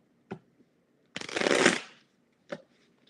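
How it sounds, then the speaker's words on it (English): Tarot cards are shuffled in one quick riffling burst, close up, with soft taps before and after in a quiet room. "Got to shuffle."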